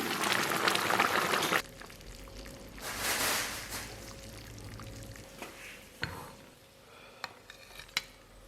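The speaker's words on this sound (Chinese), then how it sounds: "盖盖小火，咱们给它炖上1个小时。" A covered pot of red-braised pork belly with dark soy, star anise, cinnamon and bay leaves: a burst of pouring and bubbling, then quiet simmering with a few light clinks of lid and utensils.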